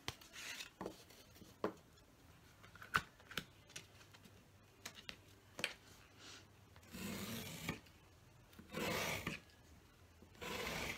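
A knife cuts through cereal-box cardboard in a quiet room: a run of soft rasping strokes and light clicks, then longer, louder slicing scrapes toward the end.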